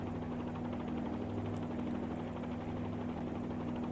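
A hovering helicopter in a flight simulator game with a counter-rotating main rotor gives a steady, dense rotor and engine drone with a constant low hum, unbroken throughout.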